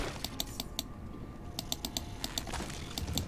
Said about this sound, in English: I apologize for the really loud clicking